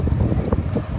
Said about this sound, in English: Let me know if this wind is bothering y'all, because it's so pleasant out here tonight